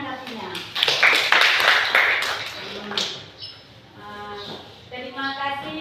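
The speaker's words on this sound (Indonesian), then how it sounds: "Jadi tepuk tangan kepada kelompok 1 yang telah menanggapinya." A group of students in a classroom bursts into applause, a dense clapping that lasts a couple of seconds and then fades as voices take over.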